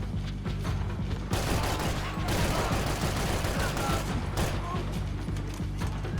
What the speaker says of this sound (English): I probably shouldn't have been shooting directly into the body armor